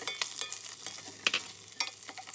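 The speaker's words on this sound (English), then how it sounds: "Hard part first, as I mentioned before, and stir until they become very soft" The hard stems of Napa cabbage are stirred in a pot for a Chinese pork cabbage stew, with repeated scraping strokes of a spatula over a soft, continuous sizzle.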